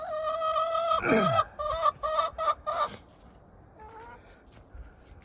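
Hens cluck and squawk near an old wooden chicken coop, a burst of close, loud calls in the first three seconds followed by quieter scattered clucks.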